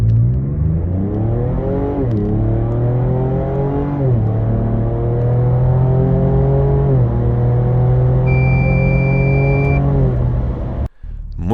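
Ford Ranger Raptor pickup with a 3.0 V6 twin-turbo engine accelerating hard from a standstill, loud close engine drone rising through several gears with brief dips at each shift, ending with a sudden cut.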